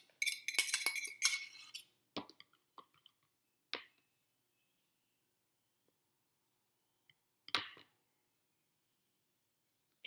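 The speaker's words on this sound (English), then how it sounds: "I dump it into my egg yolks. And then I'm going to mix that all up" A whisk clinking against a bowl while chocolate mixture is beaten into egg yolks for a meringue pie filling, a quick flurry of light metallic taps at first, then a few isolated clinks amid long quiet gaps.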